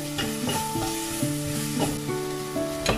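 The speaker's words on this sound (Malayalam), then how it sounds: "സവാള മൂത്ത് തുടങ്ങിയിട്ടുണ്ട്." Onions salted and sautéing in oil for a Kerala fish mappas curry give a steady, close sizzle that runs the whole time with small stirring bursts and no talk.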